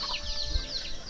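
Chickens cluck outside in a Phu Thai village, a brief soft burst of low clucking against faint background noise.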